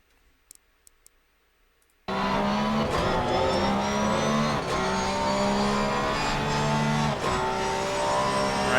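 Porsche race car in the racing game Assetto Corsa Competizione at Barcelona, its engine snarling loudly and continuously after a brief quiet start, with revs climbing and dropping through gear changes.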